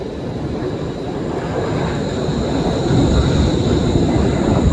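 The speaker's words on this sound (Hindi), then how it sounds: "तो ये देखिए, मेरे पीछे आई एक ट्रेन और ये चल रही है पूरा हवाई के ऊपर," A Wuppertal Schwebebahn suspension train, a rubber-free elevated railway hanging from an overhead track, rumbles steadily past close by, its broad mechanical roar building slightly and staying loud throughout with no talk.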